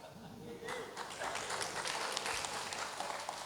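Audience clapping at a Santri Day and Heroes' Day commemoration held at an Indonesian embassy, starting after a low murmur and continuing as a steady, fairly close patter of many hands under faint voices.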